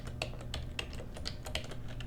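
A web address is typed on a computer keyboard, with a rapid, even run of close key clicks over a low room hum.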